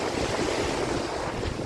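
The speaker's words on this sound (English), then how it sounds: "I'm walking on the beach, so I'm getting rushed with water," Ocean surf washing up onto a beach in Cozumel, Mexico, a steady loud rush of water and spray mixed with heavy wind buffeting the microphone.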